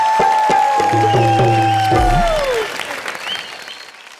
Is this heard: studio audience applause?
yes